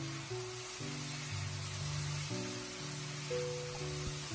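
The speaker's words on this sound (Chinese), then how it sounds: "这里我们要稍微的多翻炒一会儿，使小笋和小米椒完全的融合在一起" Bamboo shoots and chili peppers being stir-fried in a wok give a steady, even sizzle under a bed of background music.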